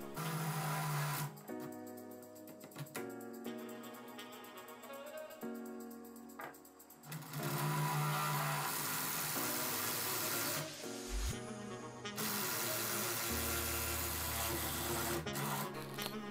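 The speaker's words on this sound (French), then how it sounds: "on peut percer avec la mèche de 32 qui correspond au goulot de la bouteille de vin" A power drill with a 32 mm bit bores a hole sized for a wine bottle neck in a wooden bottle holder, coming in several whirring bursts separated by short pauses and sharp clatters, with no talk.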